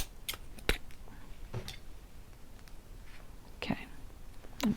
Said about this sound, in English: and then I'm going to just cut it